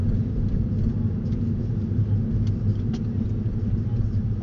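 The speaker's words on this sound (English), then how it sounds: "Gas, engine braking." Low, steady in-cabin rumble of a gas-electric hybrid car engine braking while driving at around 25 mph, with faint light ticks on top and no clear voices.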